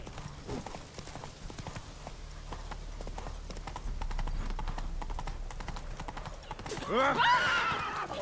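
Horse galloping in the video game The Witcher 3, with steady clip-clop hoofbeats throughout and a whinny near the end over low background ambience.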